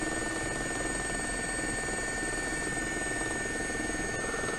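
A steady, close rotor drone and turbine whine from an SA342J Gazelle helicopter flying in X-Plane 11 over the Okavango Delta, continuous and even throughout with no talk.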